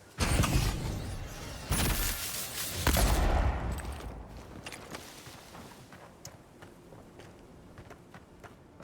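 Rapid pistol gunfire in the video game Pillars of Eternity II: Deadfire: several loud, sharp shots burst close together in the first few seconds, then fade into quieter scattered combat clatter and impacts.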